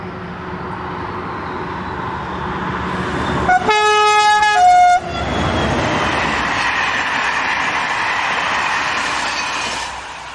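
SNCF diesel locomotive 72025 hauls a passenger train near the village of Valmorin, outside Tours, its engine roaring steadily and loudly as it passes, with a brief two-tone horn blast partway through.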